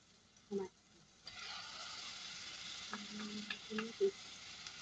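Tomatoes frying in a pan for an Arabic-style green bean stew, a constant close sizzle that starts after a brief knock, with a few light utensil taps and clinks over the hiss.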